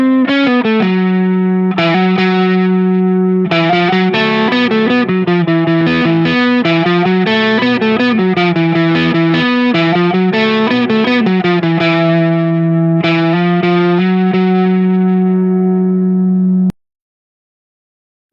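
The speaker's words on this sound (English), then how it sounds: "Backing out the gain even more and do some melody stuff sounds like this." An Epiphone Les Paul Gothic electric guitar plays a sustained melody with lower-gain overdrive: singing held notes and quick runs at steady loudness, which cut off sharply into silence near the end.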